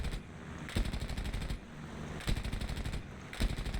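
F4U-4 Corsair machine guns in a combat flight video game, firing in three rapid bursts separated by short pauses over steady engine drone, moderately loud.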